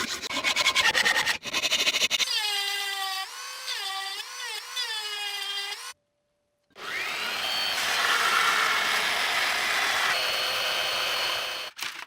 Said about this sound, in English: First, I remove surface marks using a wire wheel.